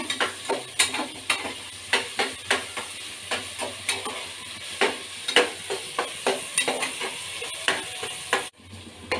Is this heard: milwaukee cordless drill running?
no